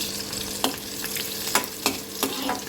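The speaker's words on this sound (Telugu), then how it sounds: "నూనె వేడిగా ఉంది కాబట్టి కొంచెం అదే నూనెను ఉంచిన తర్వాత ఇలా ఉల్లిగడ్డ వేద్దాం" Onion frying in hot oil in a pan: a steady sizzle runs throughout, broken by a few sharp spoon-scraping stirs spaced about half a second apart, with no talking.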